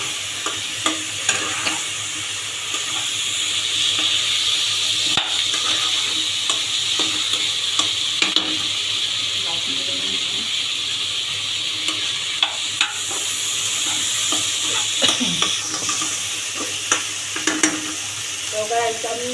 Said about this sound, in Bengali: পানি অ্যাড করে মশলার সাথে আমি মিষ্টি কুমড়াটা কষিয়ে নিচ্ছি